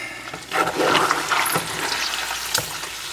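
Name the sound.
hog fat rendering into lard, stirred in a pot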